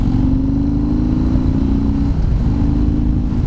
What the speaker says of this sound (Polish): wystarczy odkręcić i od razu motocykl wyrywa do przodu